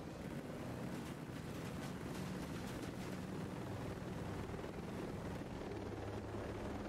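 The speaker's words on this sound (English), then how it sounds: "This helicopter's fucking huge." A large helicopter in the video game Ghost Recon Breakpoint gives a dense, steady rotor thrum and engine roar, loud and unbroken, with faint rhythmic blade pulses and no speech.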